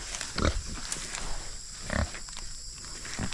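A loose pig grunts in short, loud bursts, two or three spaced snorts close by over a steady background drone.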